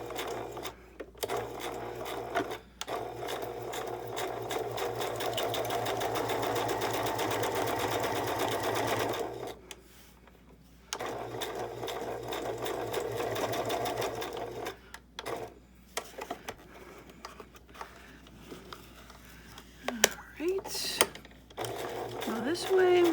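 A sewing machine stitches through book pages to make pockets for a spring journal, running in long steady whirring stretches that stop and restart, with close speech in the pauses.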